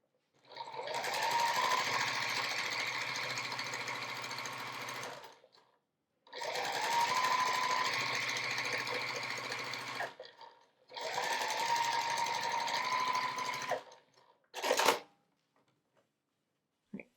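A sewing machine stitches a strip onto a quilt block in three steady, close runs of several seconds each, separated by brief pauses, ending with a short burst.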